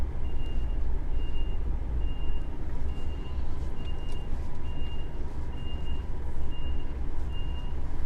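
A DAF XF 480 HGV lorry reverses with its back-up alarm sounding a steady series of evenly spaced beeps over a constant low diesel engine rumble, fairly close.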